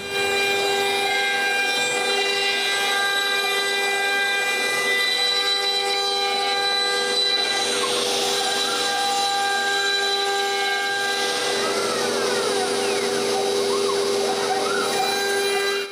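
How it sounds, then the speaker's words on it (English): A CNC machine drills magnet holes in a wooden plaque: a steady mechanical whine with strong tonal hum, joined by rising bursts of grinding as the bit cuts in, continuous and loud throughout. "Then I fire up the CNC and drill the holes for the magnets."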